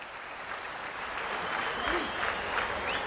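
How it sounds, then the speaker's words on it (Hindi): Audience clapping at a public ceremony in Maharashtra, a dense, steady wash of applause from a large crowd, moderately loud and continuous for a few seconds. "एक बार महाराष्ट्र की महातालियों से"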